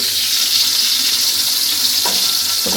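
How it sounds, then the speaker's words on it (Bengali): Eggplant slices frying in hot oil in a home kitchen, a steady close hiss and sizzle running throughout with a couple of brief clatters near the end. "তাহলে বেগুন ভাজি করি"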